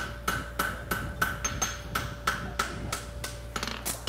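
A blacksmith's hammer forges the toe weight of an Arab horseshoe at a world championship, ringing in a steady run of about a dozen evenly spaced, sharp metallic blows.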